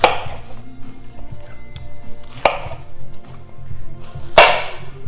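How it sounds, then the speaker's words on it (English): A knife roughly chopping cauliflower on a board for buttery mashed cauliflower: a few sharp, separate cuts spaced a couple of seconds apart, close and clear, with faint background music and no talk. "So you just kind of do a rough chop."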